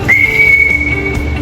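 An emergency whistle from a survival kit gives one loud, high, steady blast lasting about a second, with no talking.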